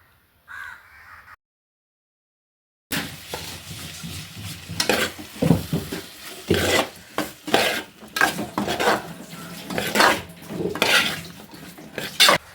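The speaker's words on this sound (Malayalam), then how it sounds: "ഇതിപ്പോൾ നല്ലതുപോലെ മിക്സ് ചെയ്തെടുത്തിട്ടുണ്ട്" A spoon stirs an Elanthapalam (jujube) pickle mixture with asafoetida in a pan, producing a run of close scraping and clinking strokes in an irregular rhythm after a short quiet opening, with no voices.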